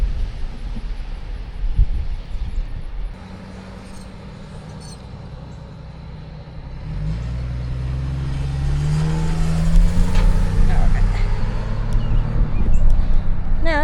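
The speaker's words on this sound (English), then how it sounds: "wait for these cars to go by" Cars drive past on a road near a stop sign along a greenway ride, their engines building from a low rumble to a louder pass-by rush toward the end.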